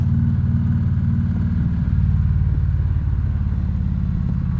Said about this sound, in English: This exhaust on this bike.